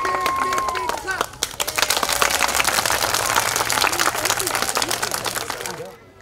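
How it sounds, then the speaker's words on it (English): An audience in a school setting claps for the superintendent, a dense burst of many hands that holds steady for several seconds before cutting off, with a brief voice heard at the very start. "Let's give her a big clap."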